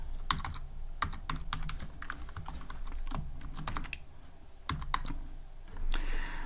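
Fast, crisp key clicks on a computer keyboard as Python code is typed, coming in quick bursts with brief pauses, close and clear with no talking.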